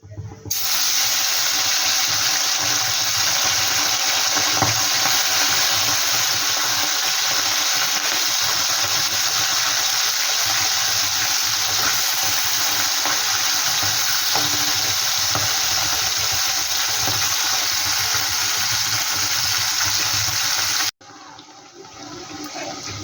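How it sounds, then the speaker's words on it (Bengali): Mourola fish fry in hot oil in a pan with a continuous, loud, even hiss and sizzle that runs unbroken for about twenty seconds before cutting off abruptly. "বাকি মাছগুলো আমি একইভাবে ভেজে নেব"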